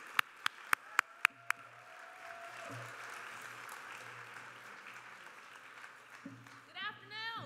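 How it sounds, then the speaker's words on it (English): Faint, distant applause from a conference audience at an HIV and aging plenary, a thin steady patter of clapping that follows a few sharp taps and ends with a muffled voice. "I'd like to give a good, warm round of applause for Paulette Heath and Janssen Therapeutics"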